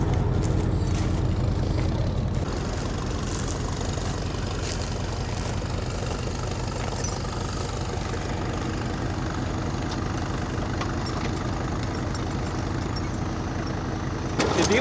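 A car stuck in a field, its engine running steadily with a low rumble while a wheel spins, the drone continuous and close throughout with no talking.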